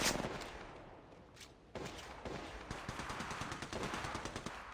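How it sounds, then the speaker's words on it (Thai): Gunfire in the Apex Legends Mobile video game, rapid automatic bursts of shots, sharp and fairly close, with a brief lull before a sustained rattling stream resumes. "กำลังยิงต่อสู้"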